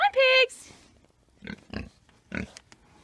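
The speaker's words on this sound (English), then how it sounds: "Come on, pigs! Come on, pigs!" Farm pigs give several short, low grunts spaced about half a second apart. A person's loud, high-pitched call comes first.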